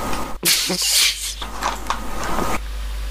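A voice makes a run of wet, sputtering mouth noises imitating pooping, with sharp bursts and a sudden cutoff near the end.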